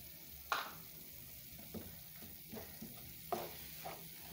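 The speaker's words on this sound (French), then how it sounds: "Quand je mets mon bouillon, je brasse d'abord un tout petit peu." A spoon stirs broth in a cooking pot over a quiet simmering hiss, giving a few soft scrapes and knocks against the pot at irregular intervals.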